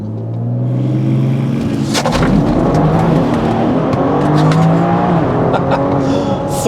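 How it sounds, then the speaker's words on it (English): A BMW X3 M Competition SUV engine roars hard from idle into a full-throttle launch with traction control off, revving high and rumbling loudly as it accelerates, close and continuous. "To launch this car, traction fully off and gearbox in its most aggressive setting."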